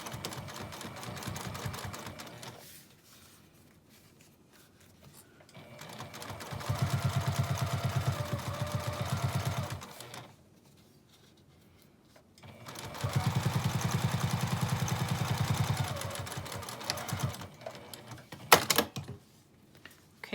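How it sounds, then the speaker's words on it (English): Sewing machine top stitching along a zipper seam on a fabric zip case, two sustained bursts of fast, rapid needle rattle separated by quiet pauses, with a brief clunk near the end. "I'll switch to a 3 for top stitching, and I'll top stitch along the top."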